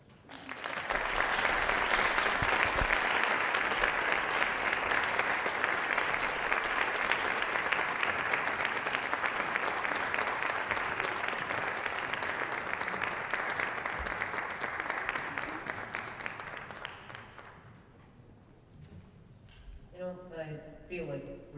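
Loud, sustained applause from a concert audience welcoming a choir to the stage, a dense wash of clapping lasting about seventeen seconds before fading into scattered claps and murmuring.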